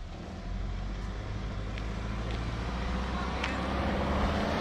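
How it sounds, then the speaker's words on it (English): A car's engine rumbles in a steady low drone, growing slightly louder toward the end, with no talk. "This is the car that's coming."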